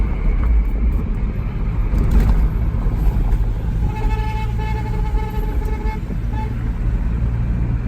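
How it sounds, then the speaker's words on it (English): Horn of a 1999 Porsche 911 Carrera 996 Cabriolet sounds as a steady, sustained tone of about two seconds in the middle, over a constant rumble of engine and road noise. "Oh, the horn is very touchy."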